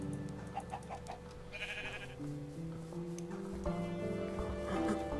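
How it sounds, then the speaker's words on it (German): Sheep in the Minecraft video game bleat a few times over steady background game music, the calls short and wavering at moderate volume. "Da kommt was von hinten. Achso, so ein Schaf."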